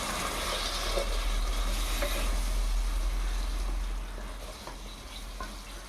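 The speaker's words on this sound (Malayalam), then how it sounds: "ആവശ്യത്തിന് ഉപ്പ് കുറച്ച് ചൂടുവെള്ളവും ചേർത്ത് നന്നായി ഇളക്കി കൊടുക്കുക" Salt and hot water are stirred into food in a pan, a busy wet sizzle and scraping that runs steadily, then eases a little toward the end, with no talk.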